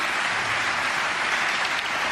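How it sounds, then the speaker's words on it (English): Steady, dense applause from a snooker crowd fills the whole stretch, a continuous wash of clapping at even loudness with no voices standing out. "The crowd love it."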